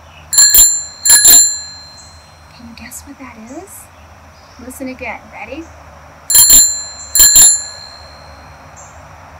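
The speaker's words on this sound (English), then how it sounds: "It's a special kind of bell that goes on something with wheels." A bicycle bell rings close and bright in two pairs of quick dings, one pair at the start and one near the end, with a person speaking softly between them.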